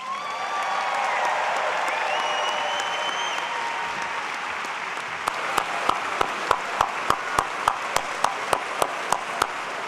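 Audience applause at a graduate school summer commencement, a broad wash of clapping from a large crowd that thins after a few seconds into a steady series of single sharp claps close to the microphone, with a few whistles early on.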